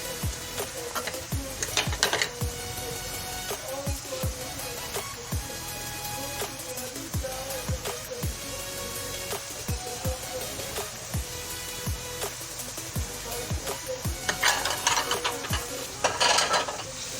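Chicken tikka with ground red chilli and salt being stirred in a pan, a steady run of spoon scrapes and clinks over a soft sizzle, close and moderately loud, with no talking.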